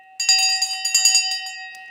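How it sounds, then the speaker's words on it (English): The New York Stock Exchange opening bell rings at a trading session's start: a bright, sustained metallic clang with rapid repeated strikes, moderately loud and alone for about two seconds. "It's the bell. It's the exchange bell."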